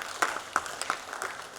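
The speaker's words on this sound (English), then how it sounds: "Can you clap for our academy?" Scattered applause at an engineering academy investiture ceremony, a few sharp claps standing out from a faint, thin patter of a small audience, with no talking.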